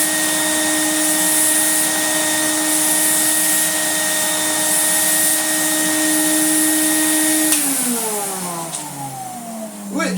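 A Numatic vacuum cleaner runs loud and steady with a strong whining motor tone, then powers down near the end, the pitch sliding downward as the motor spins to a stop.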